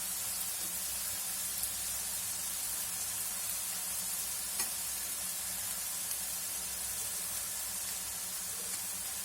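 Curry leaves sizzling in hot oil, a steady close spitting hiss with no talking.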